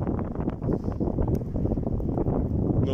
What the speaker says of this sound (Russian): Вот ветер портит все удовольствие